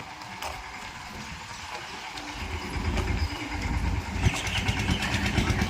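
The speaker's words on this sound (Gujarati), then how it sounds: "હવે આખા રસ્તે ટ્રેક્ટરને પાછું લીધું" A tractor's diesel engine rumbles and grows louder as it labors in reverse along a road, with a low mechanical drone building toward the end.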